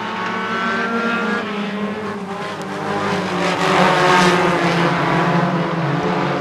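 Stock cars roar around a short oval track in a loud, continuous pack of engines, the tone swelling and fading as the cars pass close by.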